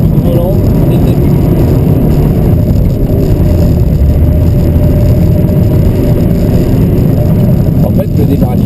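Mitsubishi Lancer engine on an ice circuit, droning loud and steady from inside the car, with constant low rumble and road noise throughout and no clear pause.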